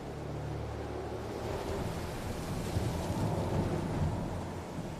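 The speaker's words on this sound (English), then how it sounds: "U-47 surfaces after dark into a gale-force storm." Gale-force storm at sea as the WWII submarine U-47 surfaces after dark, a constant heavy roar of wind and surf with a low rumble, steady and enveloping without a break.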